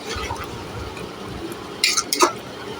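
Onions frying in a pan over a high gas flame, a steady low sizzle joined near the end by a brief burst of stirring and clinking of a utensil against the pan.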